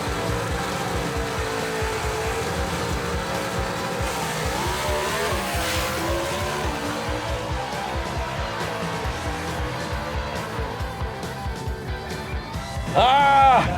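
Falcon gasser drag race car, the Patriot, making a timed run, with a loud, continuous engine roar holding steady and a higher whine rising at the end.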